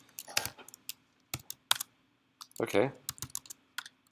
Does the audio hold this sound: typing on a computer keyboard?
yes